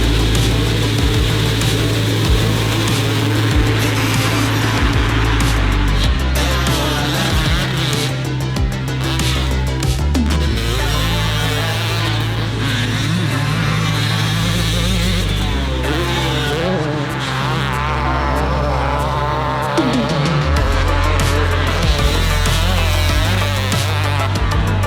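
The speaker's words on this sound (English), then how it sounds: "bring some of the most exotic premix ponies and race them for all the marbles at the Glen Helen Two-Stroke World Championships" Two-stroke dirt bikes racing at the Glen Helen Two-Stroke World Championships, engines loud and continuous with rising and falling revs and shifting pitch as bikes pass, a dense, close roar throughout.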